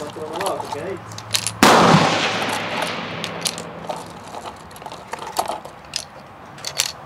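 Metallic clicks and rattles of cartridges being loaded through the side gate of an 1893 trials Krag-Jorgensen rifle, with one louder sharp bang-like clack partway through, followed by smaller intermittent clicks, close and clear.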